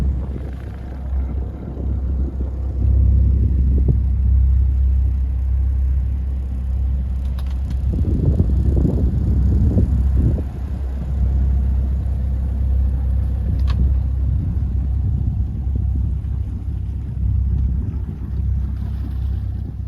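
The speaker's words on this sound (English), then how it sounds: "the engine is running beautifully, pumping lovely" A Rival 41 sailboat's engine runs steadily with a deep low rumble and constant throb, close and fairly loud, with some wind buffeting and brief clatter in the middle but no voices.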